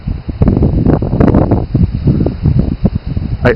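Gusty wind buffets the microphone outdoors, making irregular low rumbling bursts and rustling that swell and fade over a few seconds.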